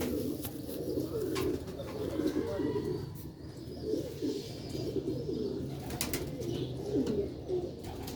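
Pair of tiger pigeons cooing close by in repeated soft, throaty rolling phrases that pulse every second or so, fairly faint and continuous against a low background, with no one speaking.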